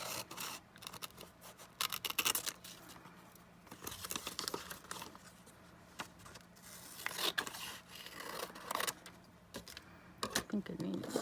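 Scissors snip and trim a calendar picture for a small book cover, giving repeated short crisp cuts with paper rustling, close up, while a person talks throughout.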